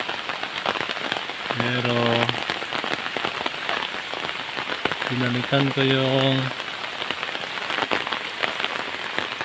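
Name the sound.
rain falling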